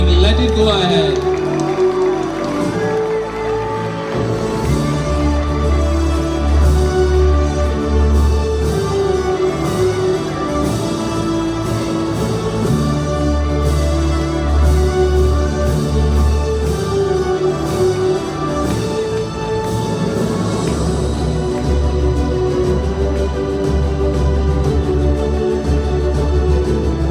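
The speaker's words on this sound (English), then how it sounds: "Please welcome the champion with a huge round of applause. Please don't stop your clapping, let it go ahead." Audience applause and cheering for a champion at the Monarch Spark Conclave 2025 student event, sustained clapping under music and an announcer's voice.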